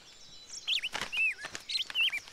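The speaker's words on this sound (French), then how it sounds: "Tu as entendu ce chant? C'est celui du rossignol, pas vrai?" Sung phrases in the manner of a nightingale, from an animated fairy tale: bright, whistled chirps and swooping trills come in short bursts separated by brief gaps, clear and fairly close over a quiet background.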